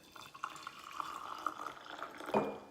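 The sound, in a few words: water poured into a Japanese kyusu teapot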